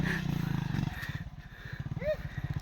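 An enduro motorcycle labouring up a mountain trail on Mount Banahaw, its engine thumping in a fast, steady low pulse close by, with faint voices now and then.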